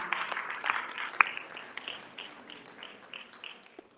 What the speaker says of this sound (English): Ladies and gentlemen, please a round of applause for our speaker